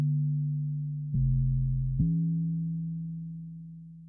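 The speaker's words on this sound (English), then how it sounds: "Bringing out some of the upper harmonics with the compressor and saturator, the bass one-shot now sounds like this." A synth bass one-shot shaped by a compressor and saturator that brings out its upper harmonics plays alone: a loud, sustained low tone that steps down in pitch about a second in, then back up, before slowly fading.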